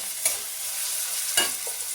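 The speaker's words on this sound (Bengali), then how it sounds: "এবার আমি টমেটো আর কাঁচা লঙ্কাগুলো দিয়ে দেবো।" Chopped tomatoes and green chillies fry in hot oil in a pan for a loitta (Bombay duck) fish dish, giving a steady close sizzle broken by two quick scraping stirs.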